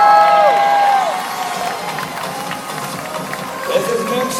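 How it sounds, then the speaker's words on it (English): Loud crowd cheering and shouting at a belly flop competition on the Allure of the Seas cruise ship, opening with a high sustained whistle or whoop that gives way to a steady wash of cheers and chatter. "The crowd is just going wild here this afternoon."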